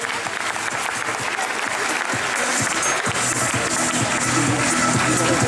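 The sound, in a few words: applause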